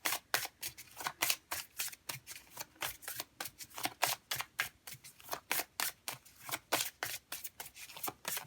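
A deck of oracle cards is shuffled by hand in a long, steady run of quick crisp riffles and slaps, about two or three per second, close up in a quiet room.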